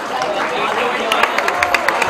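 An audience at a felicitation event at Mumbai University applauds Narendra Shyam Sukha, with crowd murmur and sharp individual claps that grow more distinct toward the end.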